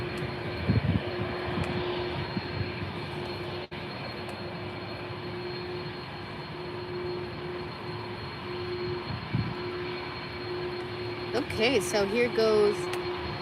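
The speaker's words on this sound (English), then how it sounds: "And Aer Lingus is now taxiing" An Aer Lingus plane taxis at an airport, a steady low engine drone heard at a distance beneath a person speaking, with a steady tonal whine and some handling noise near the end.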